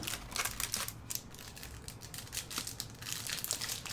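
Crackly crinkling of foil wrappers as old Magic: The Gathering Nemesis booster packs are torn open, a steady close rustle with sharp crisp bursts and no talking.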